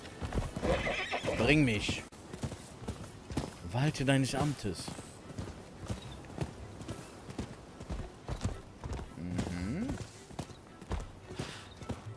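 Horse hooves clip-clop steadily with loud neighing whinnies in the video game Rise of the Ronin, while a person speaks over the sounds.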